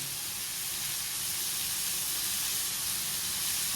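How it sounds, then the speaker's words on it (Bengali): Food frying with turmeric in a pan gives a steady, dense sizzle that holds at an even level throughout, close and continuous with no voices. "ভেজে নিচ্ছি ভালো করে ভেজে নিচ্ছি"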